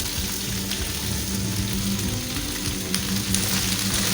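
Okra sizzling in about half a pan of oil on a stove, a steady, even crackle that fills the space without pause.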